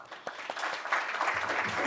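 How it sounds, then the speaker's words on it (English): Audience applause at the 4th annual Tshwane Varsity Hackathon award ceremony, a steady wash of clapping filling the room for under two seconds at moderate loudness, with no voices standing out. "A round of applause for being here."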